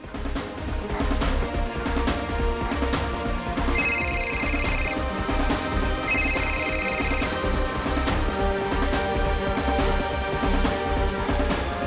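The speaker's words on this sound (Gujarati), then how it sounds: "હું રાહુલને ફોન કરું." A telephone rings in two short bursts, a few seconds apart, over a steady, busy background of music.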